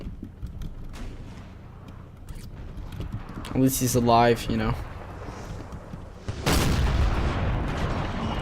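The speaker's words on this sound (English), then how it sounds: "you have cannon shots firing, like, landing right in front of you" Cannon artillery fire in a Napoleon Total War multiplayer battle, with dull booms and rumbling impacts landing nearby while someone talks over the fighting.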